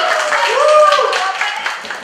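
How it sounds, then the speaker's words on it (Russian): An audience claps steadily in a dense, close patter, with a voice or tune carrying above the applause throughout. "Ну что, похлопаем."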